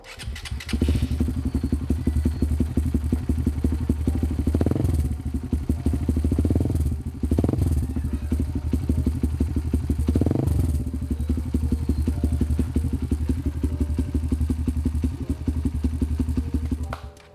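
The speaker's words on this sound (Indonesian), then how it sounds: "kita dengerin dulu suara knalpotnya" A 2017 Suzuki GSX-S 150 motorcycle with an aftermarket exhaust runs steadily and close up, its loud, continuous exhaust note broken by a few short throttle blips early on.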